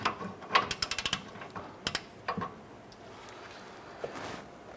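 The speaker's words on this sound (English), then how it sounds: "Let's go ahead and loosen this bolt." A wrench loosens the upper ball joint bolt on a Ram 1500 truck, with a quick run of sharp, faint ratcheting clicks, then a few scattered metallic ticks and quiet handling noise.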